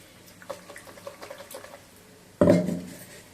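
Light clinks and taps of a mixer-grinder jar being handled, then a short splash of water sloshing inside the jar as it is rinsed near the end.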